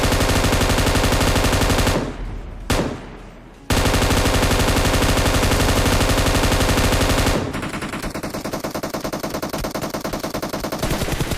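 An M249 machine gun fires in PUBG Mobile in long, loud sustained bursts with two brief gaps, then continues as a slightly softer, rapid rattling stream of shots.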